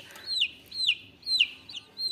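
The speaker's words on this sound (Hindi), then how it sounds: "ये मेरी मुर्गी और चूजे हैं" A hen with her chicks, close by, with about four repeated high-pitched peeping calls in a steady rhythm, each call a short downward-sliding chirp, over quiet background.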